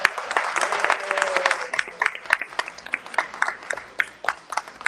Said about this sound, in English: A round of applause for Mr. Nate.